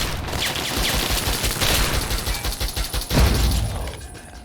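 Automatic gun turrets in Fallout 3 open fire in a loud, sustained burst of rapid mechanical gunfire, with dense shots rattling continuously through the whole stretch and a heavier blast near the end.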